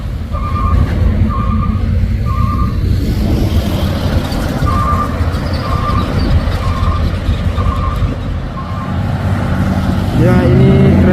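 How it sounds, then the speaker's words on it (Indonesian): Fuso container trailer truck on a hill road, a heavy, loud engine drone with a series of intermittent reversing beeps repeating over it, and voices talking nearby. "Ya ini trailer kontainer Fuso."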